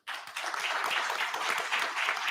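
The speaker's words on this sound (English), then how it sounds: "A big round of applause, please." Audience applause fills a hall at the close of a panel session at a deep technology strategy event, a dense, steady wash of many hands clapping that starts abruptly and carries on loud throughout without talk.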